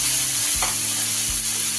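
Steady close sizzling from spices frying in a pan for a Bengali green papaya and chickpea ghonto, with water from rinsing the grinding stone just added. The hiss is constant, with a couple of dull stirring knocks.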